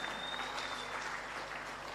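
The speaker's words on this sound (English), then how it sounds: "Let's give them another round of applause." Dense, steady clapping from an audience, a brief burst of continuous applause at moderate loudness.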